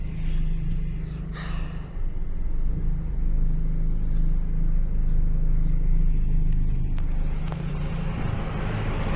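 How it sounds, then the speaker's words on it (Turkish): Road traffic rumbles by in a steady, continuous stream, with engines droning low and occasional louder vehicles passing close, and no one speaking. "Trafik."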